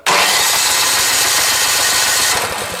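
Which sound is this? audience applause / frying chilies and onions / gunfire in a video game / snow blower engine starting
snow blower engine starting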